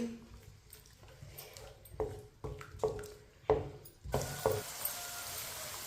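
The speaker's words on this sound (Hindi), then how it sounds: "लहसुन और प्याज को हल्का सा ब्राउन कर लेंगे।" Chopped onion and whole garlic cloves frying in a pan over a medium flame: a soft sizzle broken by several sharp clinks and scrapes of a spoon stirring, then a louder, steadier hiss of frying near the end.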